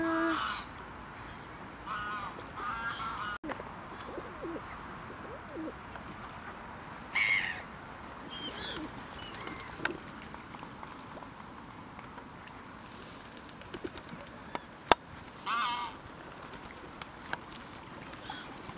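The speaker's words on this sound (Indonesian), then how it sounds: "banyak banget burungnya adik-adik" Many birds crowd a lake at Holyrood, competing for scattered food. Intermittent harsh caws and soft cooing calls sound at varying distances over a steady outdoor background.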